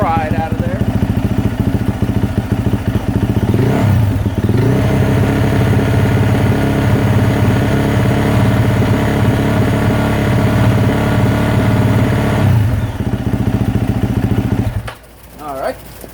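A 2024 Yamaha YZ450F dirt bike engine runs steadily at a loud idle up close for most of the stretch, with a slight change in pitch partway through, before cutting off abruptly near the end.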